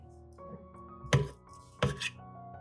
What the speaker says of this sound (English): slice the peel into thick strips